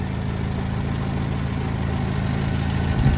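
An original 1960 Citroën DS engine idles steadily up close, a smooth, even mechanical hum with a faint rise in revs near the end.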